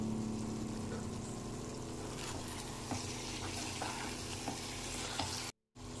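Curry leaves chicken dry roast being stirred in a pan over a gas flame, a continuous sizzle and fry with soft scraping stirs, close and steady, briefly cutting out near the end.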